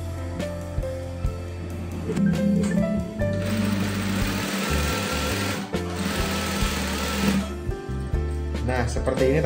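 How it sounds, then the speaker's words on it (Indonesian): A sewing machine stitches fabric onto a pair of trousers, running loud and close in a steady mechanical whirr that surges and eases, with a person talking over it. "Kita jahit dari sini, kemudian yang atas juga nanti kita jahit ya."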